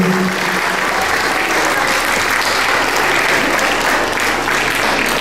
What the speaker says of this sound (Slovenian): En močen aplavz, prosim.